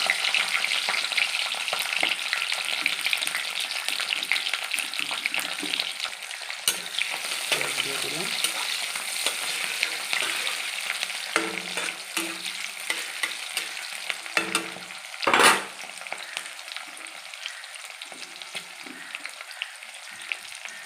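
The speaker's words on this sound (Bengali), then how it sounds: "এবার ওই তেলে আমি পেঁয়াজগুলো দিয়ে দেবো" Onions fry in the oil left from frying paneer for chili paneer. The close, steady sizzle lasts throughout, broken by frequent scraping and clattering stirs, with one louder spatter burst midway. No one speaks.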